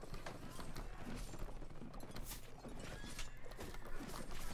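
Horses galloping in a Mount & Blade Warband mod battle, a busy continuous patter of many hooves mixed with clattering melee noise, steady and fairly near throughout.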